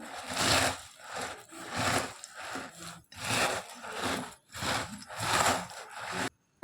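Puffed rice being tossed and mixed by hand with salt, cumin powder and Kashmiri chilli powder, giving close, loud rustling crunches in repeated sweeping strokes of about a second each before stopping abruptly.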